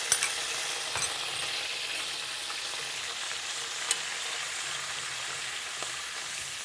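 Paprika sizzling in hot olive oil in a pan for spaghetti aglio e olio, a steady close crackling fry with a few faint clinks, no voices.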